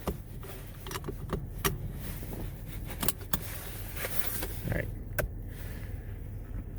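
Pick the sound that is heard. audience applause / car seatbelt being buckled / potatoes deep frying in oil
car seatbelt being buckled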